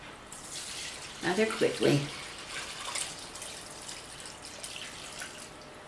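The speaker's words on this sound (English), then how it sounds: "I'm just going to pour through here and I hope it'll catch underneath." Vinegar is poured through a strainer into a jar, a soft steady trickle and splash running under a voice, fading to a faint dribble.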